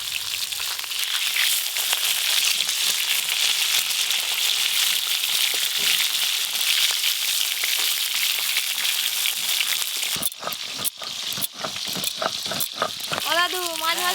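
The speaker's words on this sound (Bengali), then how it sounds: "দাদু, মাছ ভাজা হচ্ছে তো?" Boal fish fry in hot oil in a village kitchen, a loud, dense hiss of sizzling that holds steady for about ten seconds before voices break in over the frying near the end.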